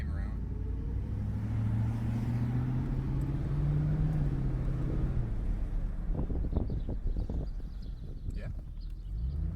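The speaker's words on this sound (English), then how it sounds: "It sounds good without a muffler." A loud 1987 Ford Crown Victoria engine running without a muffler rumbles steadily with a deep, raw exhaust drone, pitch sweeping up and down, with wind buffeting the microphone throughout.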